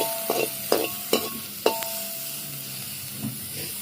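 Meat fat stirred and frying in a pan in a home kitchen, a few distinct scraping stirs near the start over a soft steady sizzle that continues quietly afterward.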